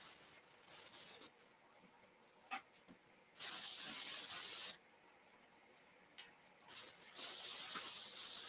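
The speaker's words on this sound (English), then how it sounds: "she's sticky, so I'm gonna respray her" A craft piece is resprayed with an aerosol can, producing two faint hissing bursts of about a second each amid quiet indoor background, with no speech.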